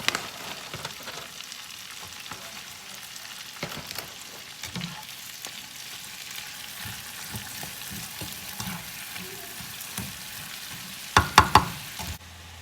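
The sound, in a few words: baby spinach sauteing in a pan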